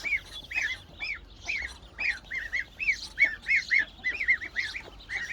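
Farm ducks and geese honking and quacking in a rapid, irregular series of nasal calls, close and fairly loud, with no one speaking.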